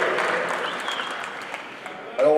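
Steady audience applause at an awards ceremony in Chantilly, dense and even throughout, with a brief louder voice breaking in at the very end.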